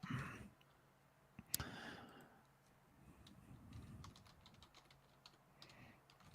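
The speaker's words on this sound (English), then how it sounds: "What are you over there typing out?" Keys tapping on a computer keyboard during a casual sports talk stream, heard as faint, scattered clicks and short bursts of typing at a distance, with one sharper click standing out.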